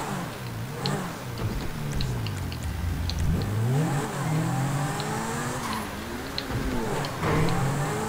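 Lamborghini-style Zentorno supercar engine in Grand Theft Auto V, revving continuously with rising and falling pitch sweeps as it accelerates, loud and steady throughout with no talking.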